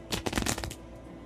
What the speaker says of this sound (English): Just let me shuffle the deck.